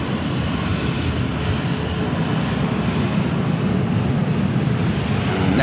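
A British Airways airliner departs Manchester Airport bound for London Heathrow, its engines producing a steady, loud broadband roar that holds even throughout, with no talk over it.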